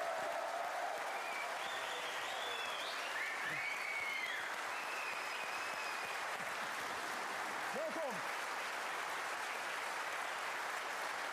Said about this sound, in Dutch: Mag ik een groot applaus, Erik Scherder!